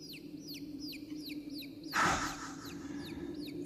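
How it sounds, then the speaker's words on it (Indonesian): Chicks peeping in a rapid, repeated chirping pattern over a low background hum, broken midway by a short burst of rustling noise, presented as a radio sound effect of chicks on a mountain. "Ada suara anak ayam di gunung seperti ini."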